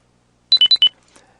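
Marine navigation software sounds a boundary alarm as a vessel crosses a boundary line: four quick, loud electronic beeps alternating between two pitches, followed by quieter faint tones.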